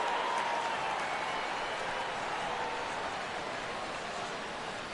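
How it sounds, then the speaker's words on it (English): Stadium crowd in the baseball video game MLB 16 The Show oohing and ahhing at a fly ball, a broad, steady wash of crowd noise that fades slightly over a few seconds. "This crowd oohs and ahs every time this guy hits a fly ball"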